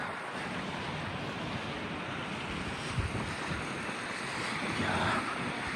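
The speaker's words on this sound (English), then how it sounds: "It's windy here" Wind rushes steadily past the microphone on a morning walk near Canary Wharf in London, a continuous broad roar with a few gusty bumps and no voices.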